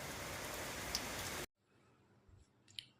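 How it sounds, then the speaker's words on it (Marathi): Rain falls in Itkur as a loud, dense hiss for about a second and a half, then cuts off abruptly to near quiet with a few faint ticks. "हा सध्या सुरू असलेला पाऊस"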